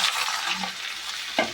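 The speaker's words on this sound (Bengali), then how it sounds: "এবার কেটে রাখা আলু ও চিচিঙ্গাগুলো ভাজতে দিয়ে দেব।" Potatoes and snake gourd sizzle in hot mustard oil seasoned with black cumin, a steady close frying hiss with a brief clatter of stirring near the end.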